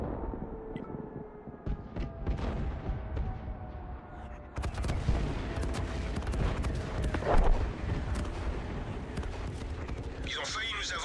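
Heavy artillery in the video game General Frontline thuds and cracks in scattered blasts over continuous battlefield noise, some close and sharp, others more distant, while in-game voice lines speak over it.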